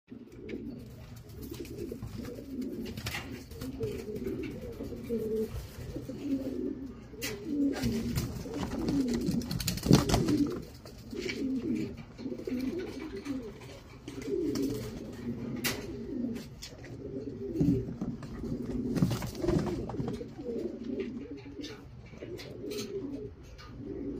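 Racing pigeons coo steadily at their loft at dawn before being sent off to Zambales. Low, throaty coos repeat close by in overlapping rounds, with occasional wing flaps and shuffling.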